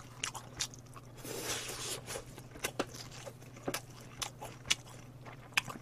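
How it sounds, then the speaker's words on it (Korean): Black sesame fried chicken is eaten up close, with repeated sharp crunchy bites and wet chewing in an irregular rhythm over a steady low hum. "검은 깨로 이루어진 흑임자 치킨을 한번 먹어보도록 합니다"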